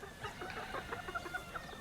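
Chickens clucking in a short run of soft, repeated calls at moderate distance, with no voices over them.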